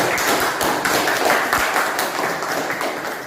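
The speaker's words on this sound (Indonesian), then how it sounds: "Beri aplaus kepada teman kalian." Classroom applause after a group discussion presentation, many hands clapping in a dense, steady patter that lasts a few seconds and slowly fades.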